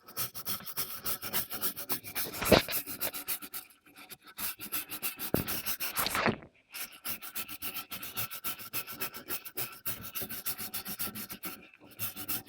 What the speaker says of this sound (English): Basically, by scraping it clean.